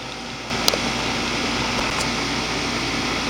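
A 2004 Goodman 10 SEER 3.5-ton heat pump kicks on with a sudden jump into a loud, steady whir and hum, with a couple of sharp clicks just after it starts, then runs on evenly.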